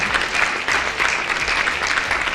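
Audience applause at a criminal justice summit forum for gubernatorial candidates, a brief, steady burst of clapping from a seated crowd, moderately loud and without talk over it.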